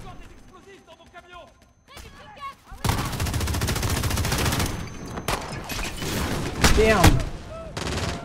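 Rapid bursts of machine-gun fire in Call of Duty: Modern Warfare, sustained loud firing that stops and restarts, with someone talking in French between bursts.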